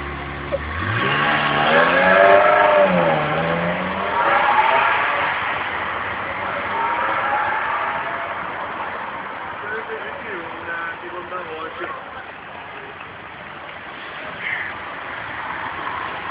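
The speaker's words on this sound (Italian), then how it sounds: "c'è una Ferrari un po' rumorosa" A loud Ferrari sports car with four exhaust pipes revving on a city street, engine rising and falling at some distance while people talk over it throughout.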